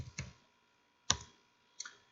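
Three separate faint keyboard clicks spaced apart, as menu keys are typed on a computer keyboard while playing the game MOO, with quiet pauses between strikes.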